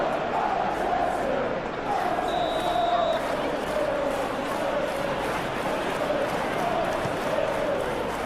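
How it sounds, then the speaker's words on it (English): Stadium crowd in the football video game PES 2021, a steady wash of murmuring and restless, jeering voices that swells and falls slightly, continuous and moderately loud with faint rhythmic chanting underneath. "You can hear the annoyance in the crowd, the frustration is growing."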